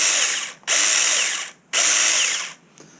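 A Feytory handheld chainsaw runs in two loud, close bursts of about a second each, a high motor whine with chain rattle that stops sharply between trigger pulls, with no talking.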